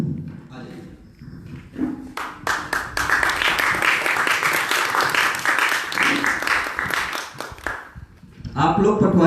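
Audience applause at a seminar: steady crowd clapping builds and continues for several seconds, fading near the end as a voice resumes speaking over it.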